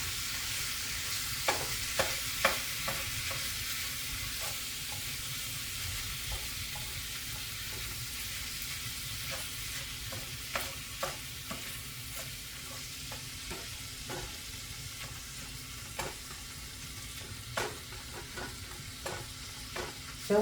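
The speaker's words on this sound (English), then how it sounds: "finish browning up this ground beef" Ground beef browns in a pan for nachos, giving a soft continuous sizzle with scattered scraping taps of a utensil stirring the meat, fairly quiet and with no talking.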